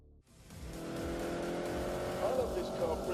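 An Aerodrome with a 330-horsepower engine, driven backwards in The Grand Tour video game, starts up and holds a steady, loud drone, with brief tire chirps toward the end.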